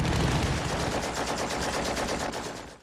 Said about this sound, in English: it's not a single sniper, it's several machine guns set up there